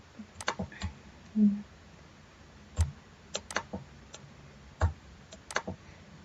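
Sharp mouse clicks, single and in quick pairs, scattered irregularly across a quiet background with a faint low hum.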